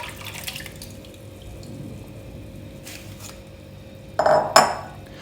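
Tamarind pulp and water poured into a wok in a kitchen: quiet at first, then a short close splash and clatter near the end.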